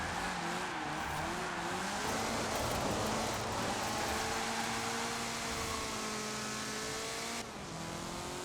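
Toyota car fitted with a Nissan engine in the Forza Horizon 4 racing game, its engine droning and revving continuously with shifting pitch, steady and prominent throughout with a brief dip near the end.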